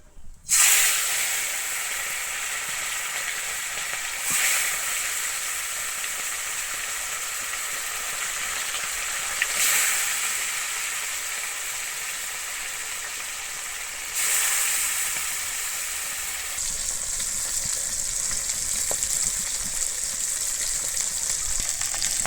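Fish fries in hot mustard oil in a kadai, a loud steady hiss and sizzle that runs the whole time, with a few sharper spattering bursts and occasional soft clatter.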